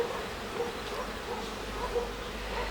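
Honeybees buzz steadily around a frame lifted from an alpine hive, a continuous close insect drone that holds at an even level throughout.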